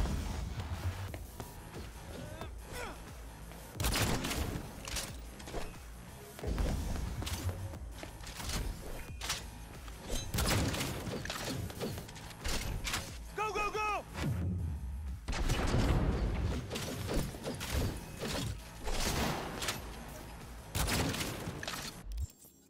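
Repeated bursts of gunfire in the video game Cyberpunk 2077, loud and close, with heavy booming shots and rattling volleys filling the whole stretch, while voices call out in between.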